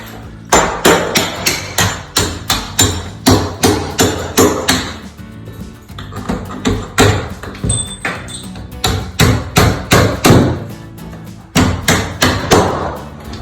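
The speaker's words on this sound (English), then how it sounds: "All you need is a hammer, a nail punch, and your safety glasses." A hammer drives a nail punch against the hinge pin of a door that swings open or closed by itself, giving sharp, close metallic taps in quick rhythmic runs separated by short pauses.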